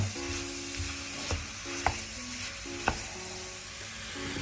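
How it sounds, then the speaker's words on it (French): Spices frying in a pan for a Basque-Hungarian beef stew, a steady soft sizzle with a few light clicks of stirring, over a faint background hum. "Le temps de faire cuire un peu nos épices."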